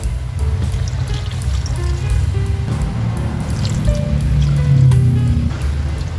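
Two glasses of water are poured into a pot of chicken cooking in a tomato broth, giving a steady, close, loud stream of splashing and bubbling liquid that swells slightly toward the end.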